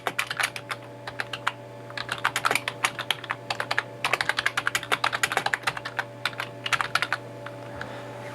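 Rapid fingers clatter on a computer keyboard, close and steady, in bursts of quick keystrokes with short pauses between them.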